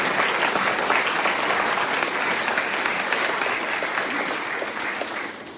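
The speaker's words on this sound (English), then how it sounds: "I'd like a round of applause for our candidates for being here and for all of you." An audience at a school board candidate forum claps in sustained, dense applause that holds steady and then begins to taper off near the end.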